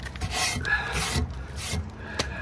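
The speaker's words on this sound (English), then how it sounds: "I'm gonna take that and I'm just gonna rub it in." Damp leftover thinset rubbed across a tile surface to wipe off Sharpie marks, a steady close scraping rasp with a few short swipes and no talking.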